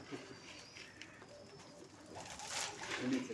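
Pigeons being fed wheat coo softly nearby, with a few low, rolling calls over faint background noise and no clear talk.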